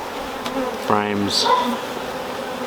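Honeybees buzz around brood box frames during a hive inspection, with one close, rising buzz as a bee passes near, while a voice briefly speaks.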